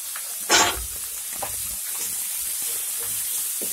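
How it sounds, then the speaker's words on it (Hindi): Chopped capsicum and cabbage for poha hitting a hot pan with a brief loud sizzle, then settling into a soft, steady frying hiss with faint stirring. "अब इसको भूनेंगे"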